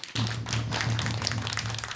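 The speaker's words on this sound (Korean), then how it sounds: "그리고 이 만드는 일에 다 애쓴 우리 신도님께 큰 박수 부탁드리겠습니다." Temple members applauded at a Buddhist Dharma talk; dense, steady clapping from an audience runs throughout, fairly loud and close, with a low hum underneath.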